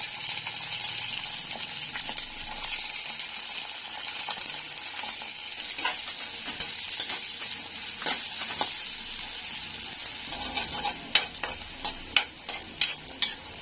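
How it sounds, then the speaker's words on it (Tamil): Small shallots sauté in hot oil in a kadai, giving a continuous moderate sizzle. Sharp spoon clacks and scrapes against the pan grow more frequent and louder toward the end. "இப்போது கடாயில் எண்ணெய் ஊற்றி எண்ணெய் சூடானதும் சின்ன வெங்காயம் சேர்த்துட்டு வதக்கிக்கலாம்."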